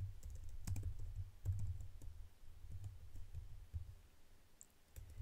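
Typing code on a computer keyboard, a faint, close run of irregular key clicks and taps with short pauses between bursts.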